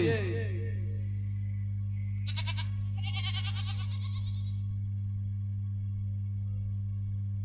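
A goat bleats twice in quick wavering cries during a staged Bhagait folk performance, set over a loud, steady electrical hum.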